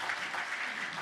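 A church congregation claps together in a brief, dense burst of applause that fills the room evenly with no voices on top.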